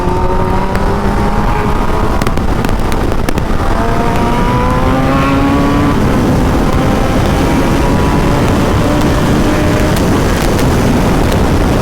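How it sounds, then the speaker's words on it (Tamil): A vehicle pulls away at an MIT college Pisto Bolt event, its engine revving loud and close with a steadily rising pitch over heavy crowd and outdoor noise, no talk. "மேலே கிளம்புது கைஸ் என் வண்டி, சரியான கிளம்புது என் வண்டி"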